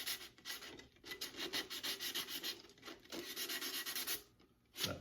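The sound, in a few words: sanding the outside of a plastic bottle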